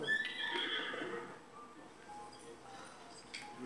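A horse in the video game Breath of the Wild gives a clear whinny at the start, then faint hoof clip-clops and small game effects follow quietly.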